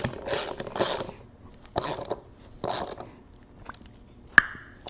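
Ratchet clicking as bolts are tightened on the front disc brake of an ATC 70 three-wheeler: four short bursts of rapid ratcheting, close and fairly loud, separated by pauses, then a single sharp metallic tap near the end.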